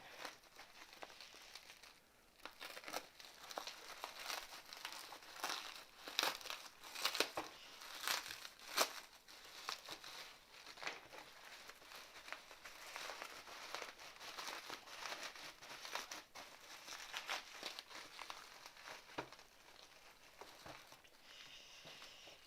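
Bubble wrap is handled and pulled open in a long run of close crinkling and rustling, with tape being cut partway through, and the loudness rises and falls without any speech.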